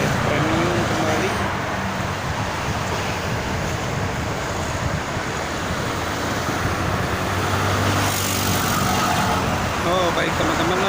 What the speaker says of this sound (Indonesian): Ini ada bus premium kembali.